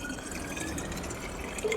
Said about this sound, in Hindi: अब मैं इसके अंदर डालती हूँ ठंडा पानी फ्रिज का